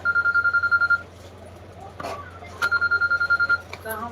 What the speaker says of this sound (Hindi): उनको बोलो गजरा को फोन उठा लो नहीं उठाओगे इसे